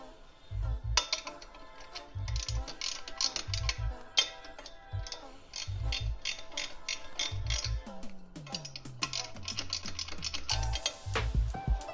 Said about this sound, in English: Couple of turns with the wrench, and that's all you need for now, just to stop this thing from moving around.